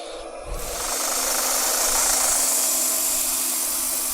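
An inertia sander working wood with 80 grit paper, starting up after a brief low thump and then holding a steady, loud whirring hiss that continues unbroken.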